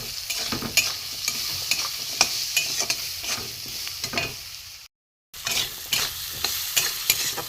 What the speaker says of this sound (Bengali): এখানে ছোট করে আলু কাটা আছে, দিয়ে দেবো, একই সঙ্গে কষিয়ে নেব।